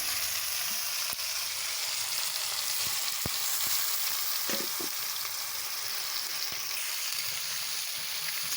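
Chopped onion and tomato fry in a pan for an egg and red-lentil dish, giving a steady, loud, continuous hissing sizzle with a few faint utensil taps underneath.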